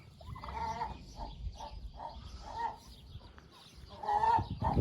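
Ardennes Red turkeys gobble in repeated bursts close by. The calls are loud and crowd over one another, with farmyard clucking in the background and no one talking.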